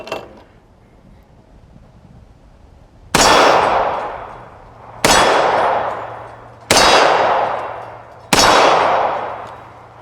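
Four sharp metallic clangs ring out at the range as Star Super A 9mm Largo pistol rounds strike a steel target, each impact followed by a long, fading ring, spaced about two seconds apart.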